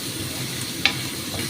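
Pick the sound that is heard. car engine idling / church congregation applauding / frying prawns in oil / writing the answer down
frying prawns in oil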